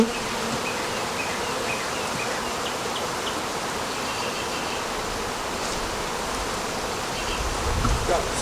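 Dense, steady buzzing of many honeybees, close and continuous for the whole stretch as a frame of bees is shaken into a cell builder, with a slight rise and a soft bump near the end.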